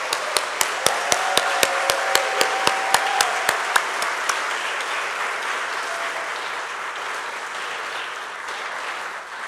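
Applause at a 2025 poetry festival: one nearby pair of hands claps sharply at a fast, even beat for the first few seconds over a broad wash of crowd clapping, which continues steadily and tapers slightly at the end.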